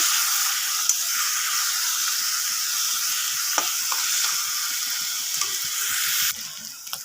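Onions frying in hot oil sizzle steadily and close, with soft spatula clicks, before peanut paste goes into the pan and the hiss drops off near the end; Bengali home kitchen cooking a sar punti fish dish.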